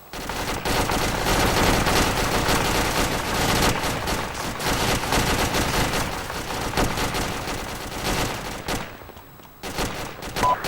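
Loud, sustained bursts of gunfire and machine-gun fusillades rattle almost continuously during military opposing-force field training, thinning out briefly near the end.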